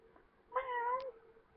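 One short, clear cat meow from the Minecraft video game, rising out of near silence and ending abruptly.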